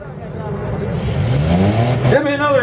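Truck at a mud bog event revving hard, the engine climbing in pitch as it accelerates through mud, loud and fairly close, with crowd noise and voices rising near the end.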